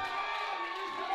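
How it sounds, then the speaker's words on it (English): A packed crowd at a powerlifting nationals meet roars and whoops in a steady, dense wash of cheering that holds loud throughout. "And the crowd, you can feel the electricity in the room right now."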